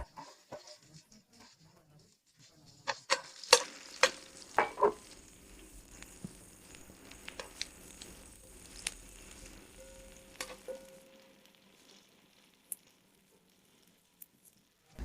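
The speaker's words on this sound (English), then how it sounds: "Put the pan on the heat, add some oil, that's enough, and toss in the onions." Onions sauté in oil in a hot pan with a quiet continuous sizzle, broken by several sharp clacks and scrapes of a utensil, then trailing off to near quiet.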